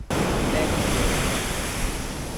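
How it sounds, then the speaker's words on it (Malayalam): Sea waves breaking on Puthuvypin beach in Kochi, a loud continuous wash of surf with some wind noise, close and steady, no talking. "ഈ പുതുവൈപ്പിൻ ബീച്ചിൽ വന്നിരുന്ന് കുറച്ചു നേരം ശാന്തമായിട്ട് കടലിനെ നോക്കി ഇരിക്കുമ്പോൾ കിട്ടുന്ന ഒരു സുഖം"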